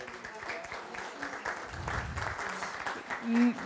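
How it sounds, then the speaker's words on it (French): Applause from the audience at an eco-actions trophy award ceremony in Saint-Étienne, a moderate crowd clapping steadily under a voice amplified over the room, with a brief louder swell near the end. "On peut applaudir ce beau projet."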